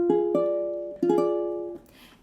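A diminished chord in first inversion sounds on a sustained keyboard-like instrument, struck twice: each attack sets off a few stacked notes that ring together and fade, and the second chord cuts off near the end with no one speaking.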